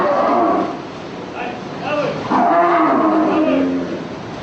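Cattle low loudly and close by at a slaughterhouse, with several drawn-out, overlapping moos and bellows over a dull background rumble.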